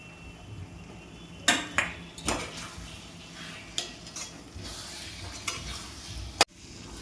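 Pigeon peas (tuver) go into a pan of fried masala and are stirred, with a soft sizzle under sharp, irregular clinks and scrapes of a metal spoon against the pan.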